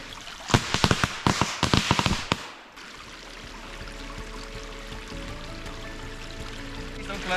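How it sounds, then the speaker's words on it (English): A quick series of loud firework bangs cracks out in a forest in the mountains of northern Japan, set off to scare away bears during mushroom foraging, then fades into steady rushing stream water and quiet outdoor ambience. "is about to let off some fireworks to scare away any bears, so don't be surprised"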